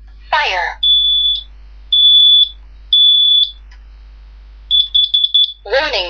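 A brand new smoke alarm being tested gives a run of loud, piercing electronic beeps, each about half a second long with brief gaps, then a quicker stuttering burst, with a person talking nearby before and after.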